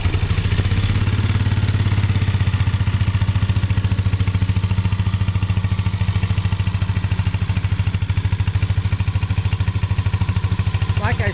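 A 1943 Lauson air-cooled engine from a WWII Army Air Corps Stewart Warner ground tent heater, running steadily with a close, rapid, even putter and clatter that continues without a break, with no talking.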